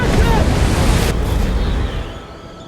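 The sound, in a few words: stormy ocean waves in a film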